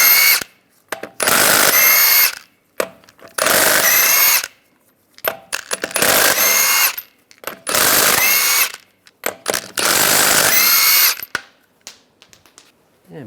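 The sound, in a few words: power tool removing truck wheel lug nuts with 22mm socket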